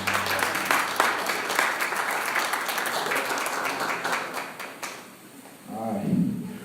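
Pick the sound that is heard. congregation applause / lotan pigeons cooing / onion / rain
congregation applause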